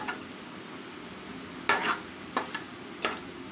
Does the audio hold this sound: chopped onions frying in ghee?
yes